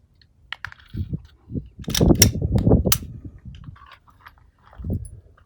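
Handgun shots fired during shooting-stance practice at a range: a short series of sharp, dry cracks, some bunched closely and others spaced apart, with quiet gaps between them.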